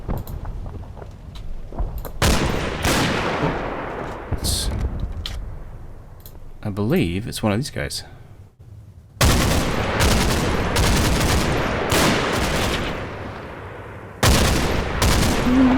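Sharp bursts of gunfire and rattling automatic fire crackle through a Second World War Normandy battle in the game Combat Mission: Battle for Normandy, coming in dense clusters with quiet gaps, while someone talks over it.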